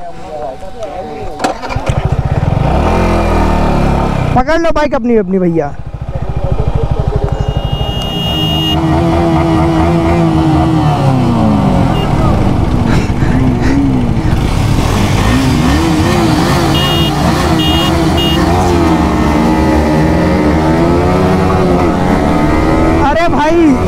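A Yamaha R15 motorcycle engine starts and revs loudly during a multi-bike race, mixing with other bike engines while people talk over it throughout.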